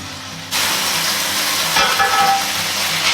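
Beef-wrapped spaghetti sizzles in a hot frying pan, a steady close hiss that starts abruptly after a brief quieter moment and carries on loudly with no voices.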